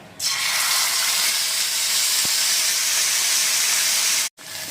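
Ginger-garlic paste sizzles loudly in hot oil with black cumin for a Bengali mustard rohu curry, a steady bright hiss filling the pan almost throughout before cutting out briefly near the end.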